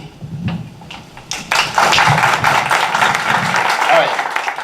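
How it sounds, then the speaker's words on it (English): Applause builds from a crowd at a campaign event for 6th District Democratic congressional candidates, rising after a second and holding as steady dense clapping to the end, with voices mixed in. "clapping is great, but no more clapping."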